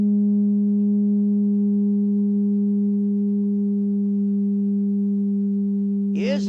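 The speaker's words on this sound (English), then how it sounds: "I'm going to fill this pipe with music" A steady, loud musical hum rings from a vertical pipe fitted with a wire screen and heated, holding one sustained pitch with overtones for several seconds before a brief flutter at the end.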